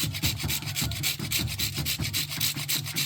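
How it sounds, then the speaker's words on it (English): A cinnamon stick is rubbed against a grater over a pot of plantain porridge, producing close, dry, rasping back-and-forth strokes in a steady rhythm of about three per second, with no talking. "I'm gonna grate some cinnamon and nutmeg. So I have the cinnamon stick here."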